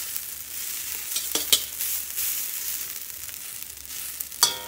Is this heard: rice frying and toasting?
yes